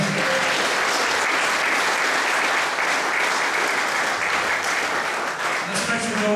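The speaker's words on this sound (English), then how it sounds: "I'd like to give a big round of applause to all the Raptors here tonight" An audience applauds at a 1916 commemoration event, a loud, continuous wave of clapping filling the hall from start to finish.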